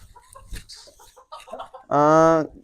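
A small bantam chicken gives a short burst of bright, harmonic clucking near the end, after quieter scattered chirps and background murmurs.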